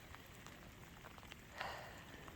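Rain falls steadily during an evening winter storm in Atlanta, Georgia, a soft, faint hiss with scattered light drop ticks throughout and no talking.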